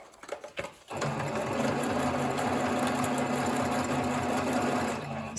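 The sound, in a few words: sewing machine stitching back over a seam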